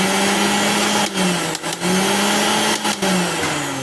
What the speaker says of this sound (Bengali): মিক্সার মেশিন ঠিক আছে।